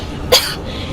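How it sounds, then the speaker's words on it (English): A single short cough from a character in the Modern Warfare video game, one sharp burst heard alone over a low steady game background. "They'll hear you coughing"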